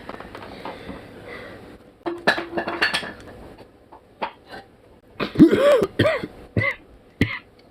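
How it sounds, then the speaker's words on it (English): Harsh coughing and throat clearing from a man close by, several rough bursts spread irregularly across the stretch, with faint clinks of dishes and cutlery in the background. "I'm gonna cough my fucking shit off right now."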